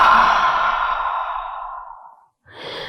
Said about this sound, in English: One more cleansing breath in this forward fold, in through the nose, out through the mouth.